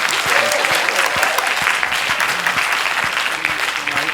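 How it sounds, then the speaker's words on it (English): A live audience delivers a loud, sustained round of applause, thick continuous clapping from many hands close by, with occasional voices faintly underneath. "That means, a round of applause."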